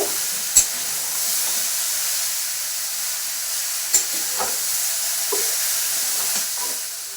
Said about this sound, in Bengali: ফুলকপি আলু খুব সুন্দর করে ভেজে নিচ্ছে দেখুন লাল লাল হয়ে এসেছে